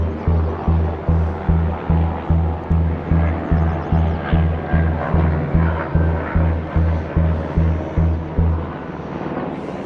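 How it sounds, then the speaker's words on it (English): A helicopter passes near a waterfall campsite in British Columbia, its rotor making a loud, steady rhythmic thudding about twice a second that fades out near the end, with no talk. "getting visited by a helicopter"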